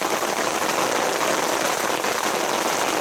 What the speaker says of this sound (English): Yeah, the rain on the bivvy.